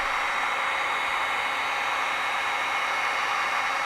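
A heat gun or hair dryer blows steadily while softening a sticker on the metal of a Loader 318, a constant loud airy whoosh with no breaks or talk.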